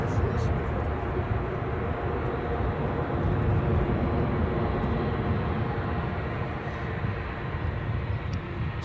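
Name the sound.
Boeing 757 airliner moving at Edinburgh airport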